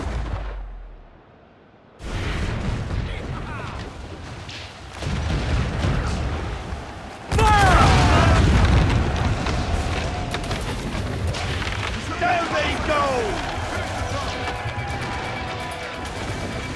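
Naval cannon fire in the game Assassin's Creed IV: Black Flag: heavy booms and crashing impacts rolling over roaring sea and battle noise, loud and close after a quiet opening, with shouted orders mixed in.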